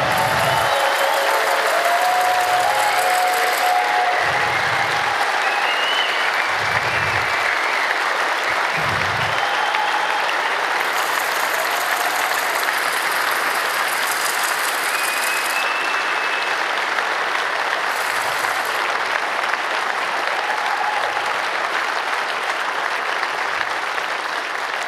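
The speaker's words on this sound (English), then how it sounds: "I want a big round of applause for them" A large audience at a hacker congress closing event bursts into sustained, loud applause that fills the hall, with scattered cheers and whistles mixed into the steady clapping throughout.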